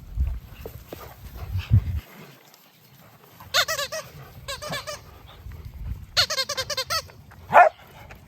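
A dog whines in high, squeaky bursts, with clustered yelps and a final sharp squeal, close by, over low rumbling and faint scuffling from a group of dogs.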